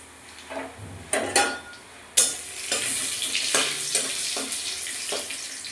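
Asafoetida drops into hot oil for a vegetarian dal with bottle gourd. A few utensil knocks come first, then a sudden sizzle breaks out and keeps crackling steadily, with occasional clinks.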